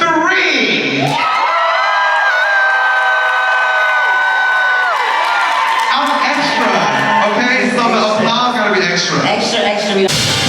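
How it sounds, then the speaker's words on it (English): A large conference crowd at a podcast summit in Miami erupts into loud, sustained screaming and cheering on cue, whoops and shouts swelling together for several seconds before breaking into scattered yells. "On the count of three, I want you to scream"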